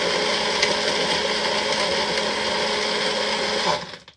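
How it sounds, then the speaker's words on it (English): A Magic Bullet blender runs steadily with a loud, close, high-pitched whir that holds constant for several seconds and then cuts off abruptly at the end. "I may finally have a blender I like."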